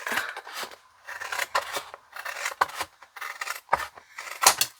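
Scissors snip the corners off a piece of card, a series of about ten crisp, close cuts in quick bursts with short pauses between them.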